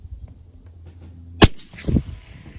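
A single sharp, loud rifle shot fired while zeroing a scope at mid distance, a sudden crack followed by a shorter secondary report about half a second later over quiet outdoor background.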